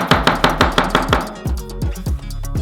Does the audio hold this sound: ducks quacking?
no